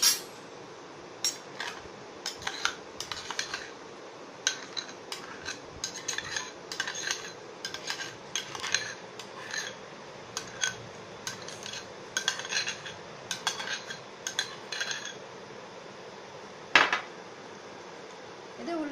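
Ground urad dal batter for millet idli being mixed by hand in a bowl, with a spoon clinking and scraping against the vessel in quick, irregular bursts, close and fairly quiet throughout.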